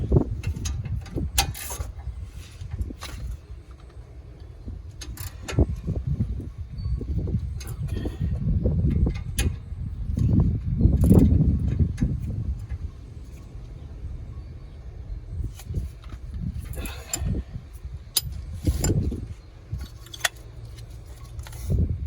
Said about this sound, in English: Then we're going to make sure it's tight by coming here with the ratchet.